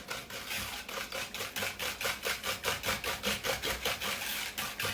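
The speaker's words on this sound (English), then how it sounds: "Now, we're going to whisk this up just a little bit. I'm going to use my little whisk here." Oatmeal pie mixture being whisked in a bowl with a small whisk, a quick steady rhythm of scraping, swishing strokes, close and moderately loud, with no talking.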